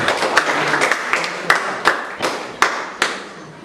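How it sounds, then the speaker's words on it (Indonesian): A group claps for the first team to present in a classroom business and marketing session, a brisk burst of hands with several sharp louder claps standing out, close and continuous for a few seconds. "kita kasih tepuk tangan dulu untuk kelompok"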